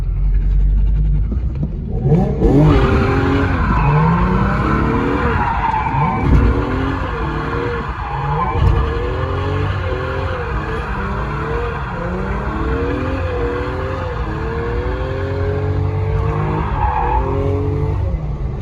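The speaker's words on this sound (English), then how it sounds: "hop in this thing, blow a couple donuts, and get on my day" A Nissan G37 with a welded differential does donuts in second gear, its tires skidding and squealing in long, repeated wails over a loud, revving engine that stays close and continuous throughout.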